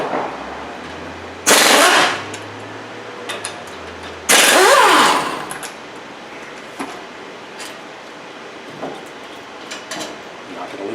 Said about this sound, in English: I am going to use the air gun just for the sake of time.